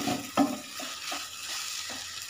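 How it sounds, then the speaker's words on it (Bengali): Radish being sautéed in oil on medium heat in a pan, a steady close sizzle broken by a few scraping stirs, with no voices. "গ্যাসের আঁচটা একটু মিডিয়ামে রেখে মূলাটাকে ভালো করে কষিয়ে নিতে হবে।"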